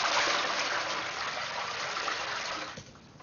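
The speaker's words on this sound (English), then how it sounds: "I'll just flush it down the shower drain" A bucket of aquarium water rushes down a shower drain in a steady loud gush that tapers off near the end, with no one talking.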